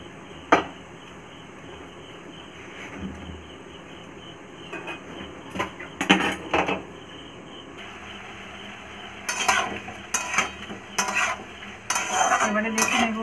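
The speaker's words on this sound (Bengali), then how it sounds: "রুটিটা হয়ে গেছে, এদিকটা ভেজে নেব।" A roti cooks in a pan and gets turned over, with sporadic metallic scrapes and clinks that cluster near the end, over quiet background hiss and faint insect chirping.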